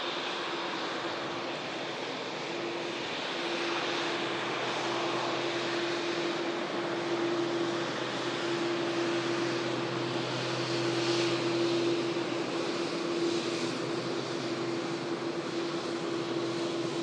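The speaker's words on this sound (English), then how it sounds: "The next aircraft we're going to see is another heavy in the form of the TUI Dreamliner for Punta Cana." A TUI Boeing 787 Dreamliner heavy jet bound for Punta Cana at Manchester Airport gives a continuous, even engine roar with a faint steady whine, moderately distant and unbroken for the whole stretch.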